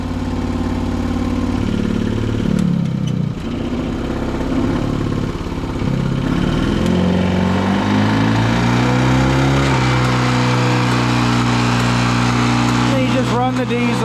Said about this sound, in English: Run the diesel till you see the oil pressure start to come up.